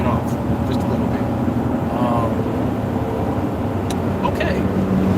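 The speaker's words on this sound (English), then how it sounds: "Traffic is starting to move." Traffic on the road home to Vegas starting to move, a dense low rumble of vehicles and engine noise from inside a car, steady and moderately loud, with a voice speaking over it.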